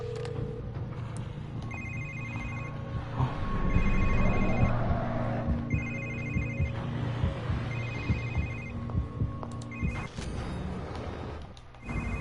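A cell phone rings repeatedly in The Evil Within as a distraction, a regular electronic ring pattern repeating about every two seconds over low ambient drones, with a thud and crash-like noises partway through.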